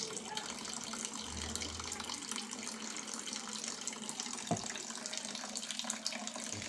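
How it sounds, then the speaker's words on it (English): Water being poured into a container during a homemade water pump experiment with plastic bottles, a steady, quiet running splash that continues evenly, with brief low bumps partway through. "Let's add more water"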